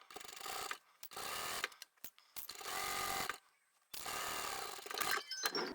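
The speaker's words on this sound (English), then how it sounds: "I'm just going to sew really close to the outside edge." Sewing machine stitching close to the edge of a layered fabric lanyard, running in three steady loud bursts separated by brief pauses, with faint clicks between.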